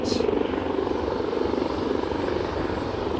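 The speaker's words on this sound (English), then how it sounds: "the inbound aircraft, an Embraer 190 long range, 18 years of age" Steady loud aircraft engine roar at Aberdeen heliport as an inbound Embraer 190 long-range jet, 18 years old, approaches, continuous and near with no voices.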